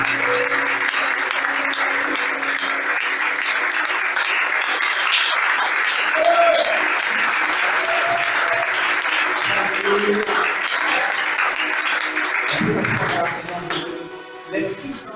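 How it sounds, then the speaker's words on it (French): Congregation applause at a French-speaking church service, a long sustained wash of clapping and cheering that fades toward the end, with voices mixed in. "Tu peux donner une acclamation à la personne qui"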